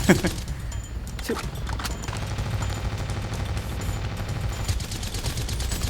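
Gunfire in the military shooter game Ravenfield, a continuous busy battle mix with scattered shots and a sharp burst at the start, moderately loud and sustained throughout.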